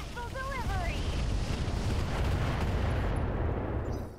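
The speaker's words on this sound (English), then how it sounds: "He's firing machine guns, we're firing missiles." Missile volleys and machine-gun fire during mech combat in the Roguetech video game, a dense continuous roar and rumble after a few short electronic chirping tones at the start.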